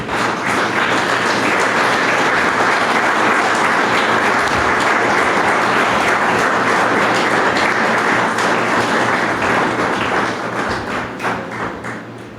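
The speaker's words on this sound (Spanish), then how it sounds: "Dale un aplauso al Señor," A church congregation claps together in sustained, loud applause throughout, a dense steady patter of many hands with occasional sharper taps and thumps, fading slightly near the end.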